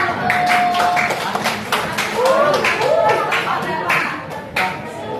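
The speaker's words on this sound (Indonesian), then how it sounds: "Tepuk tangan untuk kelompok satu" A classroom group claps for group one, a scattered burst of hand claps mixed with students' voices and chatter throughout, close and moderately loud.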